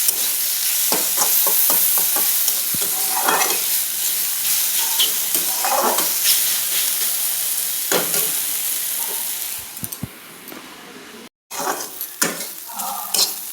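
Chhatu mushrooms fry and sizzle in a hot pan, a loud, constant hiss broken by repeated scrapes and stirring knocks. The sizzle dips briefly near the end and then returns with more stirring.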